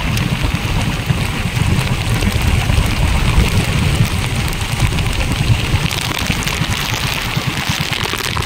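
Heavy rain pounding on a small fishing boat at sea in the Philippines, a dense, continuous hiss and patter with wind noise and a low engine-like rumble beneath, loud and unbroken.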